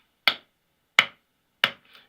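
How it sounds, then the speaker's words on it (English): Three sharp hand claps spaced evenly apart, crisp and close, made to test Bluetooth speaker latency, with a faint echo trailing the last clap and no one talking. "We are testing the latency of these Bluetooth speakers, and the reason I'm clapping"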